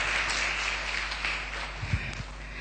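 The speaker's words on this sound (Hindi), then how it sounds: "आइए प्रभु के लिए तालियां बजाएं।" A congregation claps for the Lord at an evangelical church meeting, a brief spell of fairly even applause with a few louder thumps near the microphone and a low steady hum underneath.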